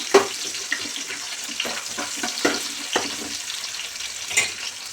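Sliced onion fries in hot oil in a pan, a steady close sizzle with scattered crackles and a few clinks of stirring throughout, no talking.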